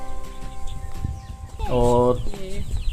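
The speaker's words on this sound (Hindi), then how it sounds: "ये उन्होंने मुर्गे भी पाल रखे हैं, मुर्गे मुर्गी दोनों हैं।" Black chickens, both roosters and hens, kept at a crocodile park in Khatima, Uttarakhand. One loud, drawn-out call rings out midway, with quieter clucks and farmyard noise around it and someone talking.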